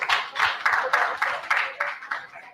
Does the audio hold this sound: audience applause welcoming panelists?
yes